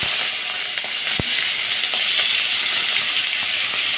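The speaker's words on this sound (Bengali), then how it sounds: "কিছুটা চিংড়ি মাছ ওই বড়া ভাজা তেলের মধ্যেই আমি ভেজে নেব" Shrimp coated in salt and turmeric frying in oil already used for gourd fritters, giving a steady, dense sizzle that fills the whole clip, with a single sharp utensil tap near the middle and a few fainter clicks later.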